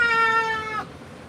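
A cat meows once during grooming with a lion cut and bath, a single loud, drawn-out meow lasting under a second, close and alone.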